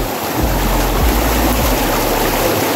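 Rushing water at Pondol waterfalls in Biliran, a loud, steady roar of flowing water close by, broadband and unbroken for the whole short stretch, with no voices over it.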